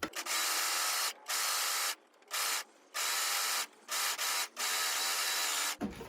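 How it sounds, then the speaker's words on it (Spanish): An overlock serger stitches a blouse seam in loud steady bursts of rapid whirring, stopping briefly between runs several times before halting. "Y ahora voy y le paso la over para terminar con esta costura"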